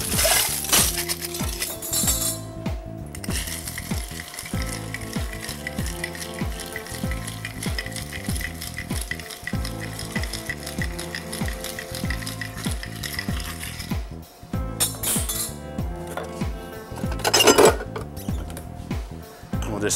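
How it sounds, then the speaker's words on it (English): A vermouth-based spirit cocktail stirred over ice in a mixing glass, ice cubes clinking and rattling in a rapid continuous rhythm close up, with a brief pause and a final clatter. "Again, all spirits, so we're gonna stir."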